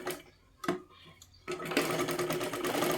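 A sewing machine stitching a boat neck blouse starts with a few short bursts, then runs in a fast, steady rattling stitch, close and clear.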